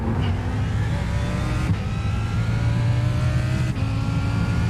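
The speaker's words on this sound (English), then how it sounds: "1, 2, 3, 4, 5 cars now heading down the straightaway, hitting speeds of 170 plus miles an hour" A pack of race cars screams down the straightaway at over 170 mph, their engines holding a steady, loud, high-pitched roar, with gear shifts breaking the drone about every two seconds.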